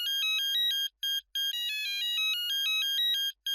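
A phone ringtone plays loud and close as a repeating electronic melody of bright beeping tones, with two short gaps, alone and with no voices.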